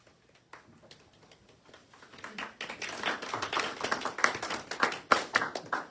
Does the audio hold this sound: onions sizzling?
no